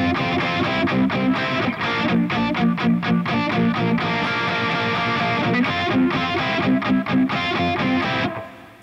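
Distorted electric guitar through a Tank-G distortion amp plugin with a pedal plays rhythmic, chugging chords with crisp stops and restarts, loud and upfront with no voices.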